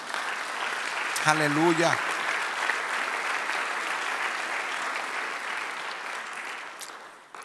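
A church congregation claps in a broad, sustained round of applause lasting several seconds, with a single voice calling out briefly near the start before the clapping fades away.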